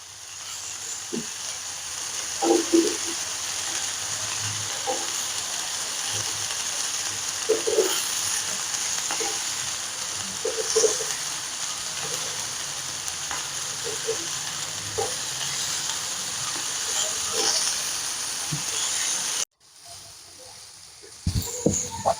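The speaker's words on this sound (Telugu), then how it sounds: "మనం ఒక ఒక సైడ్ ఇలా ఫ్రై అయిన తర్వాత ఇంకో సైడ్ ఇలా ఒక్కొక్కటి ఒకటి తిప్పుకుంటూ ఉండాలి" Chicken pieces for butter chicken sizzle steadily in a pan, a continuous close frying hiss with occasional clinks and stirring taps as pieces are turned, briefly cut near the end before the sizzle resumes.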